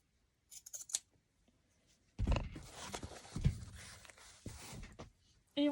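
Scissors cut through homemade fabric with a few close, crisp snips, then a longer stretch of rough, continuous cutting sound, with quiet gaps between and a soft breath nearby.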